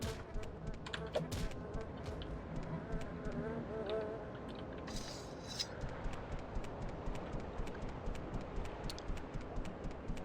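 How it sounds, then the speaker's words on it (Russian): A fly buzzes around in the Morrowind Tamriel Rebuilt game world, a faint, wavering drone that persists across the whole stretch beneath a soft, busy ambient background. "Да чтоб тебя, муха."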